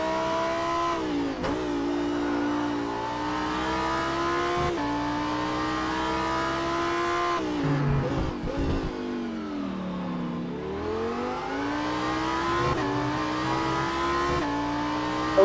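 Cockpit view in a Lamborghini STC racer at Laguna Seca: a strong, continuous engine note climbs through the revs, drops on upshifts and braking, then builds again, close and loud.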